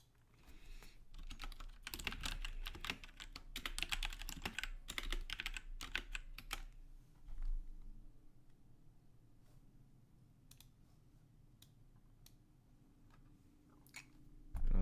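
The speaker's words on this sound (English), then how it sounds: "And also I do like typing," Typing on a computer keyboard, rapid close clicking keystrokes in a dense burst for several seconds, then a few sparse isolated taps in a quiet room, no talk.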